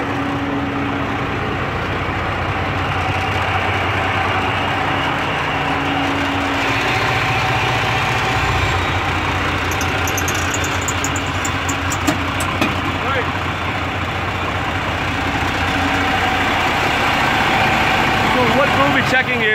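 A truck's diesel engine idles steadily and continuously through the whole stretch during a pre-trip inspection, with someone talking over the low rumble.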